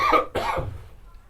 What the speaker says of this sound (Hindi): जैसे आप लोग खांसी कर रहे हो